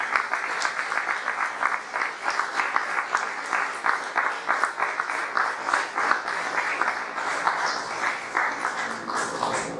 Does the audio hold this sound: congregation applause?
yes